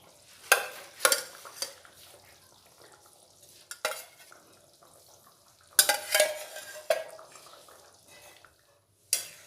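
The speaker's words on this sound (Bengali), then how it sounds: "ভেজে রাখা ডিমগুলি দিয়ে দেবো।" Fried eggs are added to a potato curry in a pan. Several sharp clattering, sizzling bursts with quieter stirring between them sound close by.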